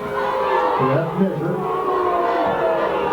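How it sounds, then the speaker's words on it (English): Spectators at a 1996 high school football game between Norway and Negaunee yell in a steady, hostile roar that carries across the field with no letup. "well, the crowd has become hostile"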